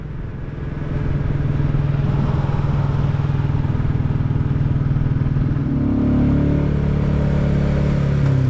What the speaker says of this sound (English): You can hear someone just bumbling along in their car